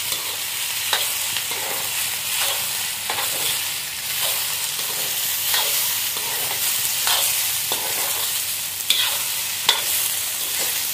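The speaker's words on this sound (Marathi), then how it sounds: "आता टोमॅटो टाकूया। टोमॅटो व्यवस्थित परतून घेऊया।" Tomatoes sautéing in a pan for rajma give a continuous close sizzle, broken by intermittent stirring scrapes with no talk.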